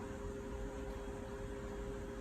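A NOPI CD-NOPI air purifier running in its gentle slim mode gives a soft, even whoosh of airflow with a faint steady hum, constant and quiet throughout.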